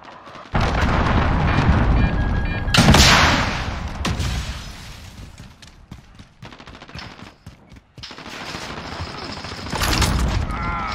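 Cruise missile explosions and heavy gunfire in the Call of Duty Modern Warfare video game, loud booming blasts and rapid bursts that rise and fade, with a second wave of impacts near the end.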